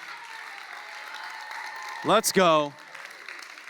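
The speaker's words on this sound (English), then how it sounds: "Give them a huge round of applause" Steady audience applause in a hall continues throughout, with a man briefly calling out over the clapping.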